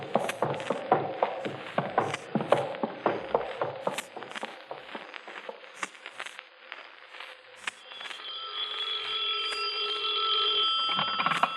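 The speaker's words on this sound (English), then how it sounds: "Adler, Captain Hanson's calling in on the other phone." A telephone rings repeatedly in a 1949 radio crime drama, a run of bright bell bursts over background clatter and footsteps, followed by a steady electronic tone toward the end.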